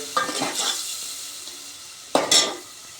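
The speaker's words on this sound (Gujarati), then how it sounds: "તો હવે ચમચાથી બધુંય સરખું મિક્સ કરી લીધું છે" A spoon scrapes and stirs in a pan over a steady background sizzle, with two louder bursts of clatter; no one speaks.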